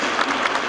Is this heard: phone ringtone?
no